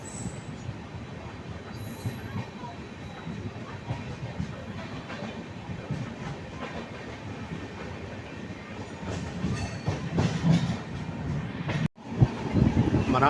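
The Duronto Express from Nizamuddin to Chennai runs on rails, heard from inside a carriage as a loud continuous rumble with rhythmic wheel clatter and faint squeals, growing louder toward the end.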